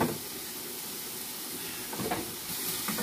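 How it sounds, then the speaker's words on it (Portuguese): Food frying in a pot for a farofa of flour, a steady broadband sizzle and hiss held at even level throughout, with a few brief clatters near the end. "está fritando aí"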